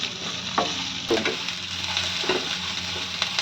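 Onions fry in a pan for egg curry with a steady close sizzle, broken by several spatula scrapes and taps as they are stirred, and no voices.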